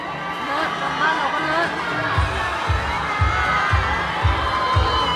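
A crowd at a Thai brand event for Snake Brand cheers and shouts with applause-like noise, a dense, steady roar with rhythmic low thumps pulsing through the second half.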